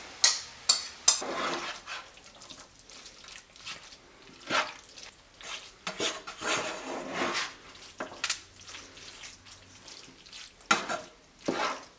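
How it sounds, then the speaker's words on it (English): A spoon stirs a tomato mixture into a cheeseburger casserole in a pan, producing intermittent scraping and wet sloshing strokes over a faint simmer, with irregular pauses between movements and no talking. "Now I'm going to stir in this tomato mixture that we made earlier and mix it all together"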